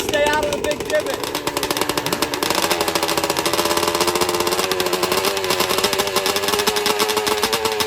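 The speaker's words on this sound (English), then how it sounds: "I love the sound of those two strokes." Two-stroke dirt drag race engines at an outdoor dirt track, a loud, buzzing, rapidly pulsing drone that shifts pitch as they rev, with someone talking over it early on.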